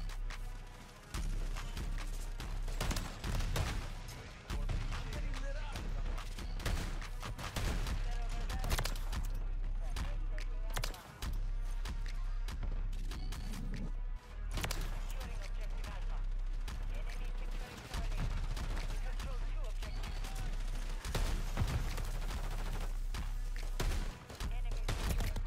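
Repeated Lockwood 680 shotgun blasts in Modern Warfare 3 multiplayer, loud and dense across the whole stretch, with mixed game noise and a steady low hum underneath.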